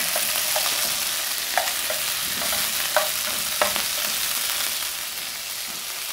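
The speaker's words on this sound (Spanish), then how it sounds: "una cuchara limpia, 100 lavada y ahora sí, a mezclar" Ground meat with oil and a little fat sizzles loudly in a frying pan while a spoon stirs it, several distinct scraping knocks standing out over the constant hiss.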